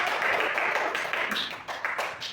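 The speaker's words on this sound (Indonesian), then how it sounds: "Oke, tepuk tangan kita semua" A class group clapping hands together in a steady burst, moderately loud, with a few scattered claps standing out.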